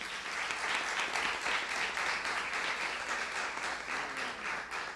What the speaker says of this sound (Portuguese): que merece uma salva de palmas